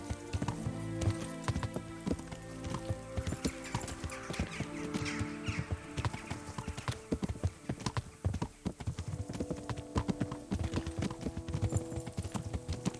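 Horse hooves clip-clop steadily and close by in Kingdom Come: Deliverance, a rapid rhythmic trotting run over layered music, with no talk.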